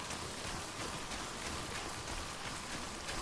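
Steady rain falls in the video game Death Stranding, a constant even hiss of downpour with no voices over it.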